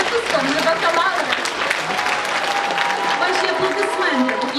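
Sustained, dense applause from the audience at a bachelor's graduation ceremony at a Ukrainian university fills the hall evenly from start to finish, with a voice faintly audible amid the clapping.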